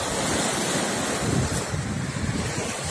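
Rough sea surf rolling onto the shore at Divnomorskoye, a steady loud wash of breaking waves with gusting wind buffeting the microphone throughout, no voices.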